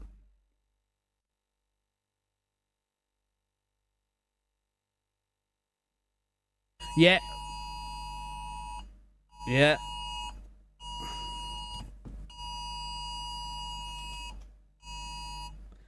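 A phone emergency alert for a nearby wildfire blares loud, steady electronic tones in repeated long blasts after a silent stretch, with a person briefly speaking.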